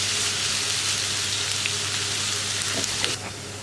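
Onions browning in a pan for an onion fry roast curry sizzle in a steady, close, even hiss, with faint scrapes from stirring near the end.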